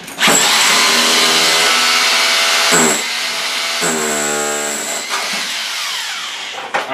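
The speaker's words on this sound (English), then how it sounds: "Put the power drill into the power button." A power drill whirs loudly, pausing briefly and revving up again in a few bursts, its motor pitch rising and falling.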